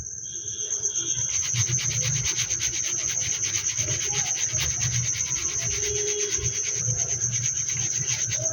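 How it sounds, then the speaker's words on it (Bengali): Homemade chaat masala spice powder being worked through a sieve gives a steady soft rubbing, scraping rasp with a fast regular shaking pulse, close and continuous, without talk. "আমি চালনি দিয়েই চেলে নিচ্ছি ভালো করে।"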